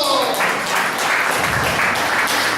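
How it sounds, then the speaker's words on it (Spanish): Audience applause in a hall after a live push-up challenge, loud, dense clapping from a crowd that holds steady for a couple of seconds, with faint voices mixed in. "¡Un aplauso!"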